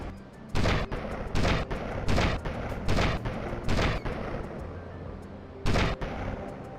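PSL rifle shots fired in GTA Vice City Stories, about eight loud, sharp cracks at irregular intervals, each clipped and booming, with a quiet ambient bed between them.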